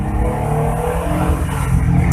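A Daihatsu Charade Turbo climbs a hill in first gear at about 3000 RPM, its engine a loud, steady close-up drone from inside the car.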